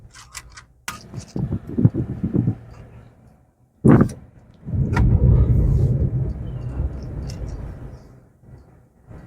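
A car engine rumbles and builds as the car pulls away and accelerates during a driving lesson. It is low and moderately loud, rising after a sharp knock midway and holding steady before easing off.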